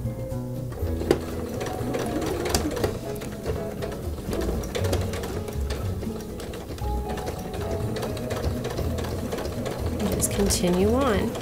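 A sewing machine stitches a hemp canvas pencil case in a steady, close, continuous run, taken slowly along a seam, with a voice heard in places over the mechanical whir.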